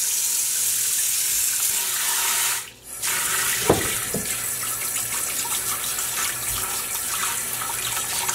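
A water sprayer hisses steadily over dyed wool roving, a loud close rush of spray that briefly cuts out, then resumes with a few small knocks and splashes.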